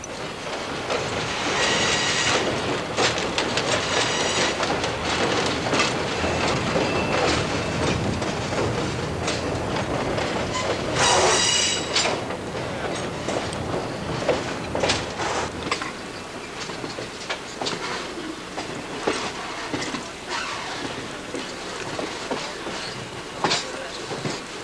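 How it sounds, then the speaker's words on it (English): A South Branch Valley Railroad excursion train crosses a bridge with a continuous rumble and rhythmic clattering of wheels over rails, punctuated by metallic screeches and a brief louder burst midway. "as the train crosses Bridge 552"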